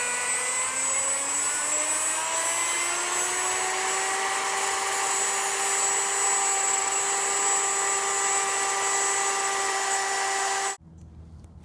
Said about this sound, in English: We're going to go ahead and cut the channel for the wires. I've got a basic router here and I'm using a 1/4 inch bit.